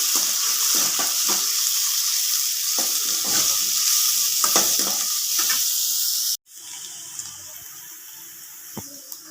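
Steady loud sizzling of onions sautéing in hot oil, continuous for several seconds, then cutting abruptly to a quieter, softer sizzle with occasional clicks.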